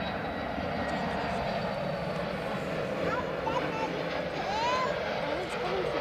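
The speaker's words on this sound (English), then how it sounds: "Oh, first Jet 2 of the show. What's that we use? A Jet 2? A321." A Jet2 Airbus A321 airliner in holiday livery moves at Edinburgh Airport, its engines a broad, steady roar heard from some distance beneath ongoing talk.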